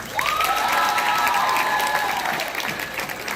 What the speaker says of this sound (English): Cheer for Caitlin.